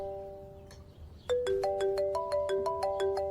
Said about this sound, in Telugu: రేయ్ ఫోన్ వస్తుందిరా.